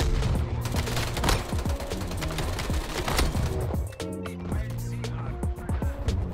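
Gunfire rattles through a Call of Duty Black Ops Cold War match, dense rapid bursts and single shots stacking up loud and close, with a brief lull near the end and some voices mixed in.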